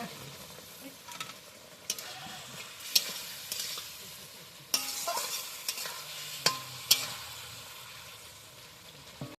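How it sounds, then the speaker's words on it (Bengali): Kashmiri chilli powder and spices frying in a pan for a thin singi fish curry, a soft sizzle under repeated sharp scrapes and clinks of a spatula stirring, fairly quiet and close, no talking. "এটা ভালো করে আমি নেড়ে দেবো"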